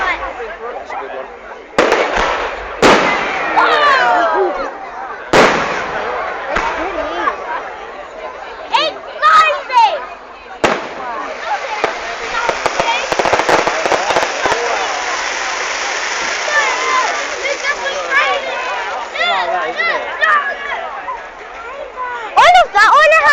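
Fireworks burst over King's Lynn in a run of sharp bangs and crackling pops, with dense crackle building midway, while a crowd chats and people nearby talk throughout.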